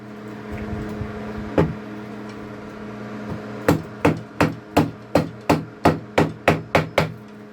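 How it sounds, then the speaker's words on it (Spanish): A few scattered taps, then a steady series of about a dozen sharp, evenly spaced hammer blows through a block of wood on the hollow metal front tank of a water pump, over a low hum. "Con un trozo de madera y un martillo le vamos a dar un golpe por aquí al tanque frontal"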